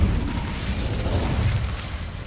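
Incendio fire spell cast in Hogwarts Legacy, a steady roaring, crackling whoosh of flame with a deep rumbling low end, held loud and even for a couple of seconds with no talking.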